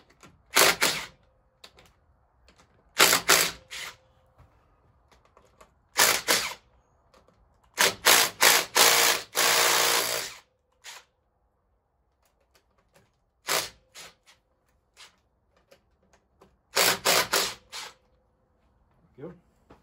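A wrench loosening the triple clamp bolt on a 1996 Honda XR250R during a fork seal job, heard as close, crisp bursts of rapid ratcheting clicks separated by quiet pauses.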